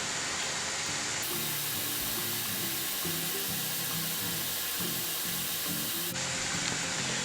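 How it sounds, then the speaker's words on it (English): Overproof 63% rum and sugar boil in a pan with a steady loud hiss and dense bubbling, a continuous close wash of noise with no talking. "You can see the alcohol is boiling and the sugar"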